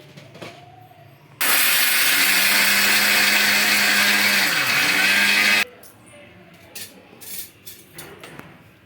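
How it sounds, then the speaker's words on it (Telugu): A kitchen mixer grinder blitzes dry coconut powder with lentils, a loud, close, steady whirring roar that kicks in abruptly, holds for about four seconds with a brief dip in motor pitch near the end, then cuts off to quiet clinking. "అలాగే కొంచెం ఎండు కొబ్బరి పొడి అయితే వేస్తున్నా కొబ్బరి వేసుకున్న తర్వాత కొద్దిగా పప్పులు వేసుకొని గ్రైండ్ చేసుకోవాలండి"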